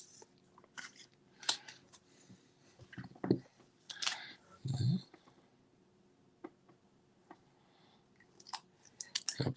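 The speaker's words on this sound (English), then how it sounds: "Apologies, I am destroying a top loader" A rigid plastic top loader for trading cards is cracked and snapped apart, making a quiet series of sharp clicks and crunchy bursts with a couple of louder low snaps in the middle.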